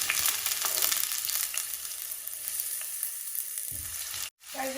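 Onions frying in mustard oil for a Sylheti eggplant and tomato bhorta, a bright continuous sizzle close by that eases somewhat toward the end before a brief dropout.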